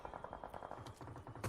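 Rapid bursts of gunfire in a BGMI mobile battle royale esports match, a steady rattling run of shots that stays faint and distant throughout, ending in a slightly louder crack.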